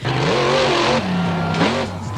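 Gravedigger monster truck engine revving loudly and steadily, its pitch climbing and dipping through two throttle swells, heard close and alone.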